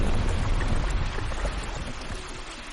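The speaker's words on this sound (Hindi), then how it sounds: "बारिश शुरू हो गई।" Heavy rain pours down in a loud, dense hiss that eases off slightly toward the end.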